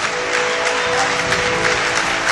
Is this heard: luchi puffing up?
no